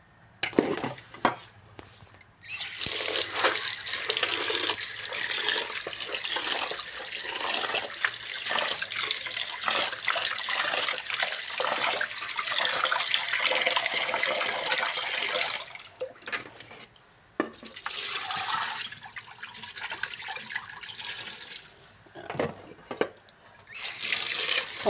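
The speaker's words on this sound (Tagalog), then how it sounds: "Hugasan natin ng 3 beses." Rice being rinsed in a sink under a running tap, with a steady loud gush of water broken by short pauses and the splash and slosh of grains being stirred, and no voices.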